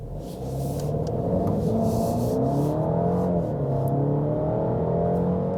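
A 2023 Alfa Romeo Giulia facelift accelerates hard on a slightly wet road, its engine note climbing steadily through the gears with a loud continuous rumble and tyre hiss, heard from inside the car.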